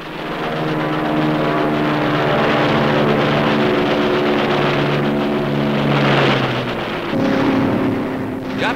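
Loud, droning engines of US Navy fighters and bombers roar continuously, shifting in pitch as planes dive and pass close overhead in low-level attacks on shipping in Mindanao Harbor, with rumbling impacts mixed in.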